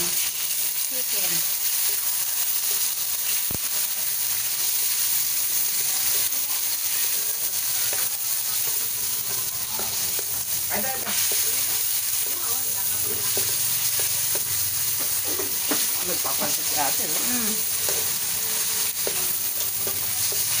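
Chicken frying in a pan with garlic and onion for pancit, a steady dense sizzle with occasional stirring clatter, close and fairly loud, with no talking.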